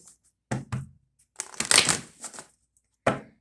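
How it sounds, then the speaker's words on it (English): Tarot cards being shuffled by hand during a reading: a few quick riffling bursts separated by pauses, close and crisp, with one longer flurry in the middle and a final short snap at the end, no voices. "One more shuffle, Gemini."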